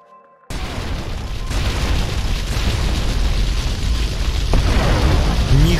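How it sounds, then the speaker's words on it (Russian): Huge explosion in the video game GTA: Vice City, a sudden loud blast after near silence that rolls into a sustained roaring rumble of fire and debris for several seconds. "Ни хрена себе взрыв."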